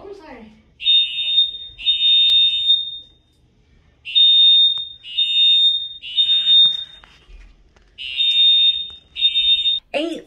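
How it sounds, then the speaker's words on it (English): A hotel fire alarm at a La Quinta blares in repeated long electronic tones, sounding in bursts separated by short pauses, loud and close. "the fire alarm goes off and it doesn't stop"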